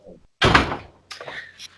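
A door left ajar is blasted open by strong wind, giving a loud close thump with a rattle, then a second softer knock about half a second later.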